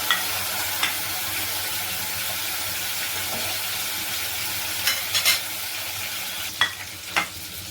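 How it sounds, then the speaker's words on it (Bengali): Rui fish pieces fry in hot oil in a kadai, a loud, steady sizzling hiss close up, broken by a few sharp clatters and spatters as the pieces are moved. "দিয়ে মাছগুলো আমি ফ্রাই করে নেব"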